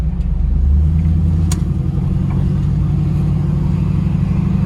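Chevrolet Camaro SS with a newly fitted exhaust cruising along, a steady low engine rumble heard from inside the car, loud and continuous with no sharp revs.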